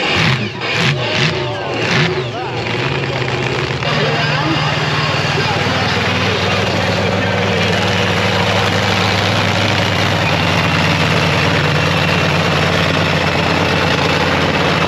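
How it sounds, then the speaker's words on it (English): The Slingshot monster truck's engine warms up at a stunt show, a loud steady idling drone with a few revving bursts at the start, crowd noise and people talking underneath. "he's just got to get that vehicle warmed up"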